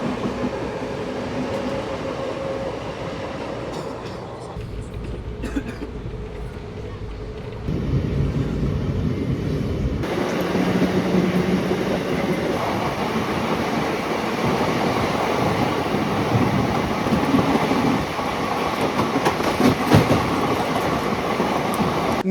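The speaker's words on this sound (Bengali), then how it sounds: "নির্ধারিত সময় থেকে 3 মিনিট লেটে আমাদের ট্রেন ছেড়ে দিল ব্যান্ডেল জংশন স্টেশন থেকে।" Inside the 13185 Gangasagar Express as it pulls away from Bandel Junction, a continuous rolling rumble with clickety-clack of wheels on rail joints, quieter at first and then louder and rougher as the train gathers speed.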